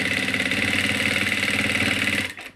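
A sewing machine stitches the bottom of an Afghani salwar, a fast, even mechanical chatter running steadily and close before cutting off abruptly near the end.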